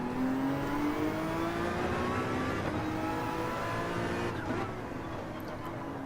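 Race car engine in Gran Turismo 7 holding a steady high whine that climbs gradually, with a shift-like change partway through, loud and continuous throughout with no talk over it.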